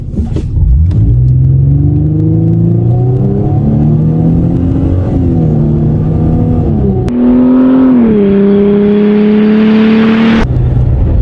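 A Ford Mustang driven on a training course accelerates hard toward cones to about 100 km/h, its engine rising through the gears with a loud, close roar, a gearshift dip, and wind noise swelling near the end.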